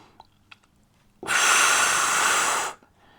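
A single strong exhale lasting over a second during a Pilates mat exercise, close and loud, preceded by a few faint small breath sounds, with no speech.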